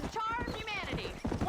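Horse hooves clip-clop in a rapid gallop in the Western video game Red Dead Redemption, a rhythmic drumming under a running voice and game music.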